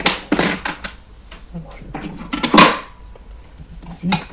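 Paper scraps are handled and cut for a gift card pouch, giving a series of close, uneven crisp snips and rustles with small clicks and taps between them, no talking.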